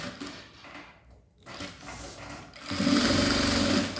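A sewing machine stitches a narrow safety seam along the edge of fabric for a unisex zippered toiletry bag, first a quieter start then a loud, steady close whirring run after a brief pause.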